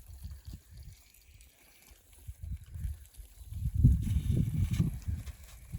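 Water forced through an irrigation pipe system gushes and splutters in low, uneven surges, quiet at first and then building into a louder, sustained rushing burst.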